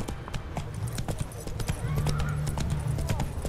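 In The Witcher 3, the horse Roach gallops, sending out a quick, rhythmic clip-clop of hooves over low in-game ambience.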